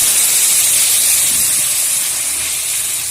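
Pressure-cooker-boiled dal hits hot oil tempering in a pan, giving a loud, steady sizzling hiss up close that fades slightly over a few seconds, with no voices over it.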